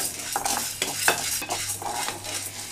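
Chana dal and coriander seeds dry roasting in a pan over a low flame, a quiet, rhythmic run of scraping stir strokes with the seeds rattling and shifting against the metal.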